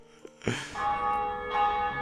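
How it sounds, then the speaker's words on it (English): A school afternoon bell in the video game Monkeys!¡ rings with a sharp strike, then a sustained, ringing tone that swells again near the end, clear and alone. "The afternoon bell rings."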